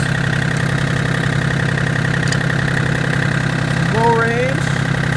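A John Deere 770 compact tractor runs in low range first gear, its engine a steady, close, low idle-like drone with a faint rising whine near the end.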